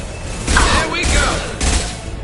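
Gunfire in the video game Mass Effect 2 comes in three loud, dense bursts of rapid shots separated by brief gaps, close and heavy over a low rumble.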